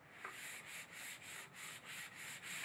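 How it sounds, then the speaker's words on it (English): Rhythmic back-and-forth sanding strokes rasp against a wooden garden tool handle between finish coats, about eight even passes, close and fairly quiet. "Just give it a quick sanding before applying the second coat."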